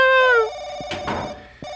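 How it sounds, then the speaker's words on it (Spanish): A telephone rings with a loud electronic tone in the horror video game Paranoiac, one clear ring fading out and a second ring beginning, mixed with brief thumps. "¡Voy, teléfono!"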